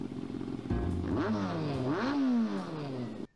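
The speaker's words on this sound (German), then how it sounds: "Ein Motor." An engine revs up and down a couple of times, its pitch sweeping higher then settling, heard fairly close without any talking.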